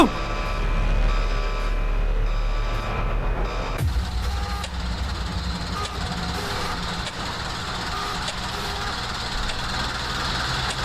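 Inspection vehicle arriving at night in a Roblox shawarma shop game: a rumbling engine idles under repeated reversing beeps, continuing steadily after a sudden shift in the scene.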